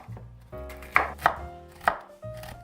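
A knife chops toasted pecans on a cutting board in several distinct, fairly loud thuds at an uneven pace, with no voices.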